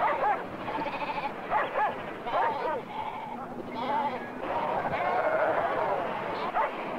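Sheep on the Faroe Islands bleat repeatedly in a shaky, wavering chorus at moderate distance, several calls overlapping under a steady outdoor wind-like wash, with a narrator talking over parts of it.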